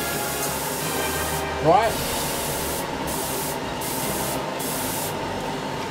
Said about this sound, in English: Always start spraying off the unit and then come onto it.